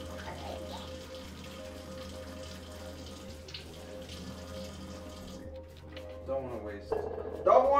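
Tap water runs steadily into a kitchen sink while radishes are washed under it, a continuous close splashing hiss with a voice faintly in the background and louder handling clatter near the end.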